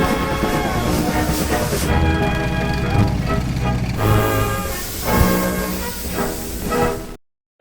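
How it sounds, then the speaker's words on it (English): A Dutch heritage steam tram locomotive, NS 7742 'Bello', rumbles and hisses close by, with bursts of steam and clanking rail noise before cutting off abruptly. "famous steam tram locomotive of the Netherlands"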